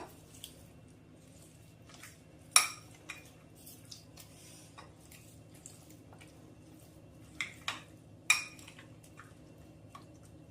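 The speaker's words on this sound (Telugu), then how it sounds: "ఇదంతా ఒకసారి కలుపుదాం బాగా" A spoon mixes spinach, grated raw mango and mustard powder into a chutney, with soft wet squishing under a few sharper clinks against the bowl, quiet and close.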